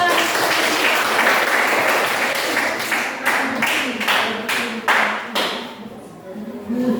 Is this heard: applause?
yes